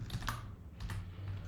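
Computer keyboard keys clatter up close as PowerShell code is typed, a quick run of soft, steady clicks with no voices.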